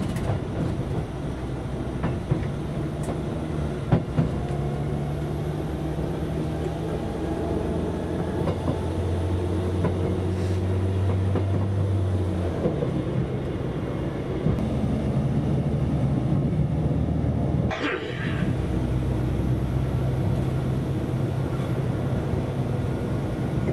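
Cab ride aboard an SA132 diesel railcar travelling from Wolsztyn toward Poznań, with a steady engine drone and rolling rumble on the track throughout, plus a brief louder rush near the end.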